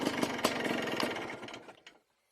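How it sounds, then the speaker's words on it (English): Yamaha Blaster 200 two-stroke engine idling with a rapid, uneven putter and a few louder pops, fading out and cutting off after about two seconds. "And that'll idle. It idles beautifully."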